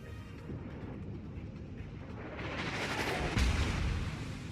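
Naval gunfire in World of Warships, a rumbling barrage of heavy shell blasts that swells toward a loud boom near the end, with no talk over it.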